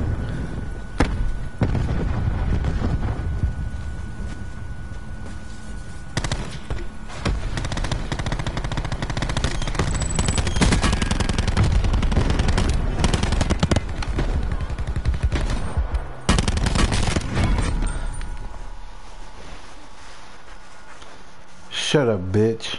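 Video game gunfire: sustained machine-gun bursts and scattered single shots run loud and close for over twenty seconds, with voices talking over the shooting and a sweeping electronic tone near the end.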